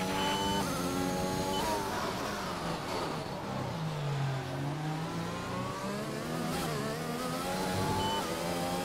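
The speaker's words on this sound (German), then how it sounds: "Gib jetzt Gas, die Reifen sollten schließlich ein bisschen warm werden." Engine of an F1 race car in the F1 22 video game at the Bahrain Grand Prix, revving and accelerating with rising and falling pitch sweeps across gear changes, loud and continuous throughout.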